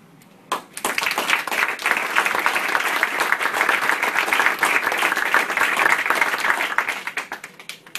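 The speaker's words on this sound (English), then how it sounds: "The clapping's not in my time, is it?" Audience applause breaks out after a call for military veterans to raise their hands at a 2012 election debate, a dense, steady wave of clapping from a crowd filling the room for about seven seconds before fading.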